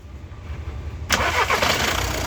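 A Skoda car engine with a replaced injector fires up partway through, a sudden loud start that settles into a steady close running note over a low rumble.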